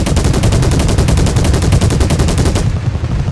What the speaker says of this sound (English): whether I fire with the helmet targeting display or the optic, all of the rounds are going to hit the same point